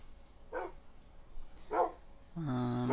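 A wolf in Minecraft gives two short, sharp barks at moderate distance, spaced about a second apart, then a longer harmonic yip or whine at the end, with no talking.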